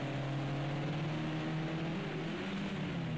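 Race car engines drone steadily during a Project CARS 2 touring car race at Long Beach, including a rear-wheel-drive BMW, a constant humming roar with no voices.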